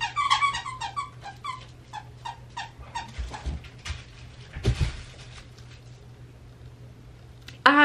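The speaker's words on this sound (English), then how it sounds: "I'm so sorry about the squeaking." Squeaking from an item in a clinical bag: a quick run of high, chirpy squeaks in an uneven rhythm, then a few scattered rubs and clicks and a final short squeak, close and fairly quiet, with no talking.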